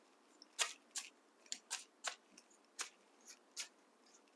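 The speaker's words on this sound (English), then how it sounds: "Shuffle the cards." A series of crisp, snappy tarot card flicks and taps in an irregular rhythm, close and fairly quiet, with silence between them.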